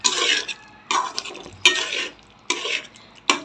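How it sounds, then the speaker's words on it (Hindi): Chicken curry being stirred in a pot after garam masala goes in, a spoon scraping in four or five broad sweeping bursts with short pauses between, close and fairly loud with a faint sizzle underneath. "अच्छा जी यहाँ पे मैंने गरम मसाला डाल दिया, अभी हम इसको करेंगे और भी मिक्स"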